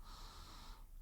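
One slow, steady inhalation through the nose during a throat chakra breathing exercise, close up and soft, with a faint airy hiss that fades out near the end.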